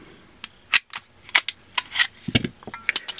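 A Glock pistol being field-stripped, its slide pulled back and removed, gives a quick run of sharp, close metallic clicks and snaps with short silent gaps between them and no talking.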